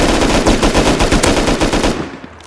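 Rapid bursts of machine gun fire in the video game Rust rattle continuously, loud and close, with dense repeated shots before trailing off near the end.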